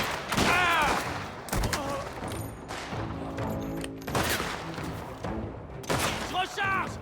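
Rapid bursts of gunfire in the video game Mafia mixed with booms and thuds, loud and close, with voices shouting over the shooting throughout.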